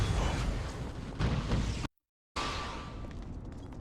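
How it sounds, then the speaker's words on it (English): Black Mage's Flare fire explosion from the video game Final Fantasy XIV, a loud, roaring, noisy burst that rumbles on for several seconds, briefly cut to silence before the blast continues, with no talk over it. "that old fire explosion was the old flare from Black Mage"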